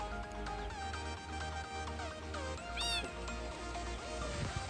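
A kitten in the Minecraft video game gives a short, high meow over steady in-game background music, sounding clear and fairly prominent against the tune.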